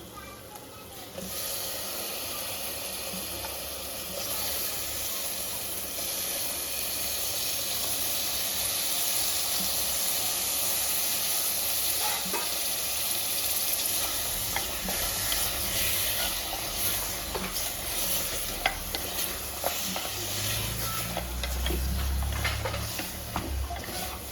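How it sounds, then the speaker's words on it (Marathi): Mutton hits a hot pan for a gravy and sizzles steadily and loudly for a long stretch while it is stirred, with occasional scraping in the background. "आता आपण त्याच्यामध्ये मटण घालून घेऊ"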